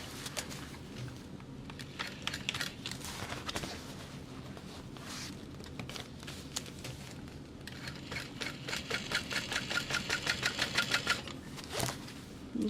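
A sewing machine topstitches the exterior fabric of a bag with a steady mechanical whir. Its stitching rhythm turns into a rapid, regular chatter in the later seconds, then stops near the end.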